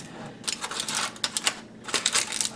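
Tin foil crinkles and rustles in quick, close bursts as it is tented over a dish of leftover turkey, a crackly flurry of several handlings in a few seconds with no speech.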